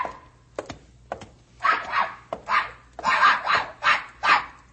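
Dog barking in an old-time radio drama, a run of loud, close barks repeating in quick bursts, with a few sharp knocks before them.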